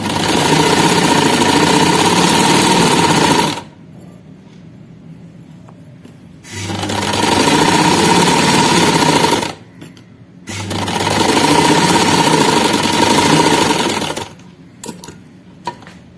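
A sewing machine stitches along the edge of a kameez strip backed with buckram. It runs in three long steady bursts of a few seconds each, separated by short pauses, with no talking.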